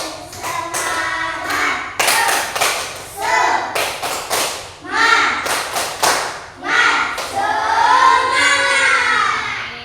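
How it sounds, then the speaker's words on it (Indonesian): A class of children standing in a classroom beat out a patterned rhythmic clap, with sharp grouped claps and pauses between sets, mixed with loud children's voices chanting and shouting along. "Tepuk semangat ya."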